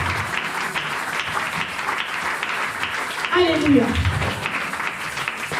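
Congregation applauding during a church worship service, broad steady clapping that swells briefly in the middle, with a voice singing or calling out over it.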